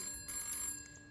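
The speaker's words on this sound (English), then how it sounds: "Get the phone." A telephone rings in the video game This Bed We Made, a brief, faint electronic ring heard alone.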